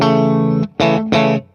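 Electric guitar played through a Mass Street custom Paul Cochrane Timmy overdrive pedal at low gain: one sustained, lightly driven chord, then two shorter strums, loud and close.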